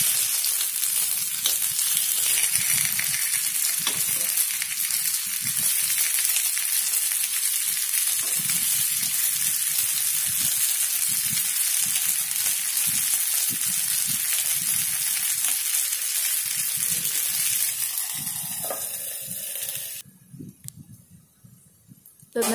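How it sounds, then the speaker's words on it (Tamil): Sweet corn paniyaram batter fries in plenty of oil in a paniyaram pan, a continuous bright sizzle with soft scraping stirs, cutting off abruptly near the end. "அப்புறம் நல்லா மொறு மொறுன்னு வெந்து வர மாதிரி நல்லா வேக வச்சுக்கலாம்."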